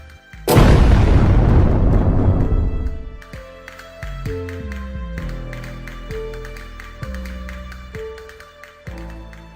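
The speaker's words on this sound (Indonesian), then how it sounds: "bom meledak di Renon, berdekatan dengan kantor konsulat Amerika Serikat" A single huge bomb blast booms out loud and alone, its roaring rumble decaying over a couple of seconds before low thuds and tonal tones follow.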